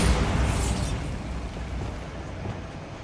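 Bombarda spell explosion in Hogwarts Legacy bursts loudly at the start, a deep rumbling blast that slowly decays into a lingering low roar.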